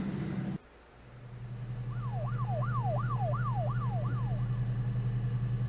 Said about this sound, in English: Why is there police sirens?